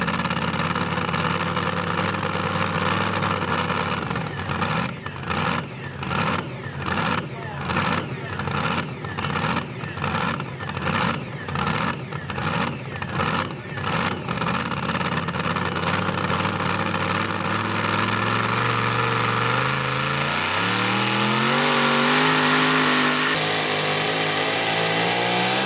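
A super modified pulling truck at a truck pull event revs hard in rhythmic bursts, then takes off as the engine note climbs steadily, loud over a roaring crowd-and-PA background with an announcer talking.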